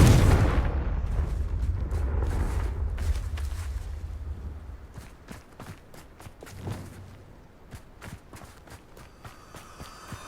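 A Confringo blasting spell erupts in Hogwarts Legacy, a heavy low rumble swelling over the first few seconds before fading into scattered sharp impacts and footsteps-like clatter, loud and close with no voices.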